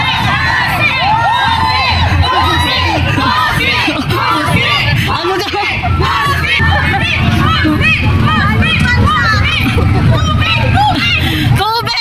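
Children in a crowd at a school sports fest shout and cheer nonstop, a loud, dense wall of overlapping young voices with whoops rising above the babble throughout.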